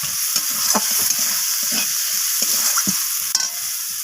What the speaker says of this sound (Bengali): তো সমস্ত কিছু মশলা এইভাবে নাড়াচাড়া করে আমি একটু কষিয়ে নিচ্ছি মিনিট 5-এর মতো।